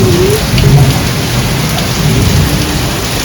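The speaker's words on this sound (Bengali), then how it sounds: "বৃষ্টি বৃষ্টি কত হচ্ছে দেখি" Loud, steady downpour of heavy rain with deep rumbling thunder underneath, close and continuous throughout.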